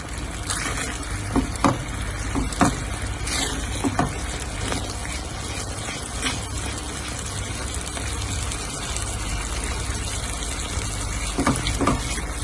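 Milk mixture with cardamom powder being stirred in a pan for milk barfi, a steady wet sloshing and scraping with occasional clinks of the spoon against the pan, close and fairly quiet throughout.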